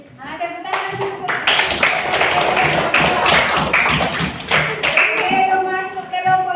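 A classroom of students applauding after a group presentation, a close, lively burst of many hands clapping continuously for several seconds, with young voices calling out over it.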